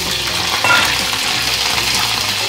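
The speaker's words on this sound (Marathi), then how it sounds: "पनीर करून घेऊया आणि जास्त उडणार नाही ते गोल्डन होऊन फ्राय करून घेऊया।" Cubes of paneer fry in a pan with a dense, loud, continuous sizzle and faint spatter, close up and without a pause.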